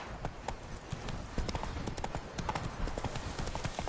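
Roach, a horse in The Witcher 3, galloping with rapid rhythmic hoofbeats, loud and close and continuous throughout.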